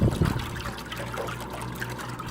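Water trickles and splashes steadily in a pump-driven bank fountain, a close continuous liquid dribble with a low hum beneath, with no talking.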